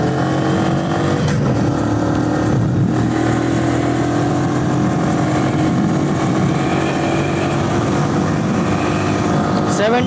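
A 2022 Bajaj CT 110X BS6 motorcycle is ridden through city streets, its engine a loud, steady drone that barely changes for the whole stretch.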